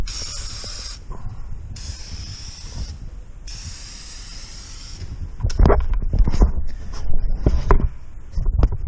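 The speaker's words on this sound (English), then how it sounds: "So on the top side of this machine, I just give her a good spray of WD." WD-40 is sprayed across the top of a Kubota Z-turn mower deck in several long hissing bursts with short pauses, followed by louder scraping and handling clatter.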